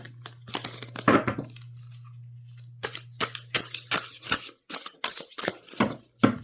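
A deck of playing cards being shuffled by hand, in repeated crisp riffling bursts with short pauses between, close and fairly quiet, with no talking.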